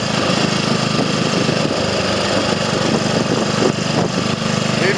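Small single-cylinder engine of a Triumph Sports Cub replica motorcycle running with the throttle opened, a steady, buzzing, close and loud drone that holds throughout.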